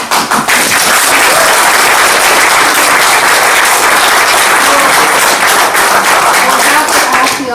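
A large audience at a county planning commission hearing on marijuana ordinances breaks into loud, sustained applause that fills the room throughout, with dense overlapping claps and no pause.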